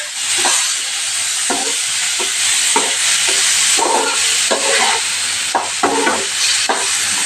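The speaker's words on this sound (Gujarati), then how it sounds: "આપણે અધકચરા ચડવા દેવાના છે, આવી રીતે સાતળવાના છે ટમેટાને પણ" Tomatoes sautéing in hot oil with whole cumin and asafoetida, a steady close sizzle broken by repeated scraping stirs of a spoon in the pan.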